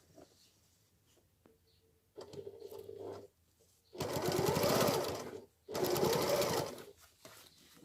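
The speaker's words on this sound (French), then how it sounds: "je vais faire une piqûre. Allez, alors, on a piqûre nervure" Sewing machine stitching a pin-tuck seam on fabric, starting with a short low whir and then two loud sustained runs of steady motor hum and needle rattle, separated by a brief pause.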